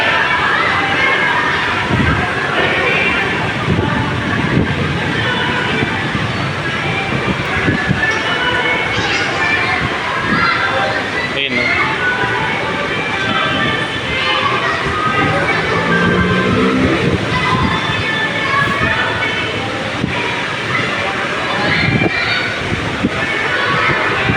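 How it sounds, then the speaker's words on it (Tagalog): Strong wind roars steadily throughout during a sudden heavy rainstorm in Cavite, a dense, continuous rushing noise, with a voice talking faintly underneath. "Lakas ng hangin."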